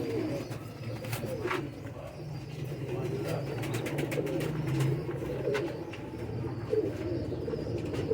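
Pigeons coo steadily in a loft, with fancy barred (patti) hens among the birds; low rolling coos repeat throughout, with occasional chirps and wing sounds in the background.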